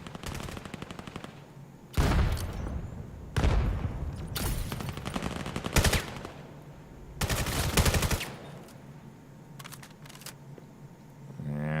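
Rapid bursts of gunfire from the VR shooter game VAIL during a competitive match, loud automatic volleys alternating with quieter single shots and background game noise, with no talk.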